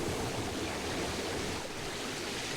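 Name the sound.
water spurting out of fallen Terra Tower, Chrono Cross video game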